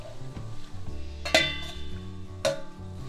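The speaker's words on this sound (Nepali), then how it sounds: "अब हामी यो सिस्नुलाई यहीँ हाल्छौँ" Nettle greens tipped into a pot of boiling water with flour and stirred, giving a soft sizzling, bubbling bed with a few sharp metallic clinks of a spoon against the pot, close and fairly quiet.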